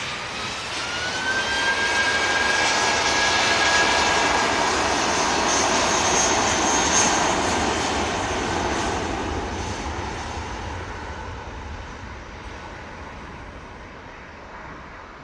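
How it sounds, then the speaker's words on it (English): A British Airways jet takes off from runway 23 left at Manchester Airport, its engine roar swelling loud and close with a rising whine, then slowly fading into the distance as it climbs away. "BA rotates from 2-3 left."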